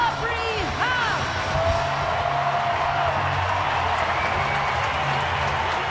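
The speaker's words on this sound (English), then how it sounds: "here's Aubrey Huff, who should receive a nice round of applause" A ballpark crowd at a Colorado Rockies at San Francisco Giants game applauds and cheers player Aubrey Huff, a steady, dense roar of clapping and crowd noise that holds for several seconds.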